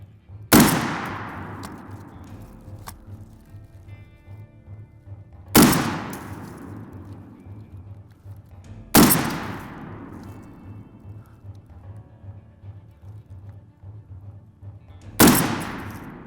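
M1 Garand rifle fired at an outdoor shooting range: four loud, sharp gunshots a few seconds apart, each with a booming echo trailing off, heard close by.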